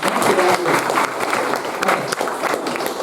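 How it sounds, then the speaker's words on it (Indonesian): Clapping from a class of students, a steady dense patter of many hands lasting the whole few seconds, with some voices mixed in. "tepuk tangan dulu"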